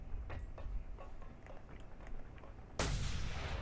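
Gunfire in the open-world action game Just Cause 2 during multiplayer: a string of sharp, distant shots ticks along steadily, then a loud, close blast bursts in near the end and rumbles on, with no talk over it.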